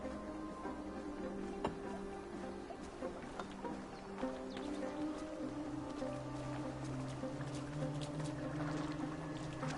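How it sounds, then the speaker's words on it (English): A boat glides across water in the Assassin's Creed video game, a steady, continuous wash of water and hull noise with sustained tonal layers running throughout, no voices. "Are you well enough to steer this boat?"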